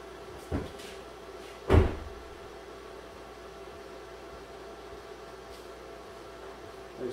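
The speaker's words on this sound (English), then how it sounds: "Cycle and close the driver's door." The driver's door of a 2015 GM 2500HD truck opens and shuts, giving a soft click followed by a louder solid thud, then a quiet hum for several seconds with a faint knock near the end.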